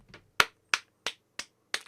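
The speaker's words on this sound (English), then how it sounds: "I can't clap too loud." Quiet hand clapping, six soft sharp claps in a slightly uneven rhythm, close and alone.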